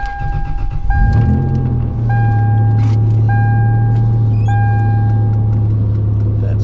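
Toyota Tacoma with the 3.4 engine starting up after an oil change: a cranking rush, then the engine settles into a loud, steady close idle, with repeated electronic chimes sounding over it.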